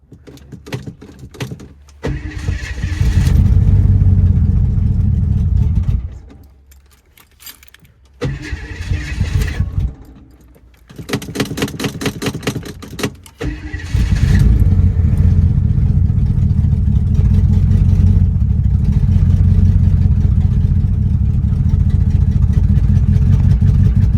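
A 1971 AMC Matador cranks over on a cold 8-degree day, the starter turning in bursts before the engine catches and settles into a loud, steady idle up close, with a few gaps between attempts.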